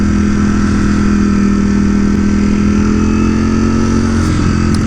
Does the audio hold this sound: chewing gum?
no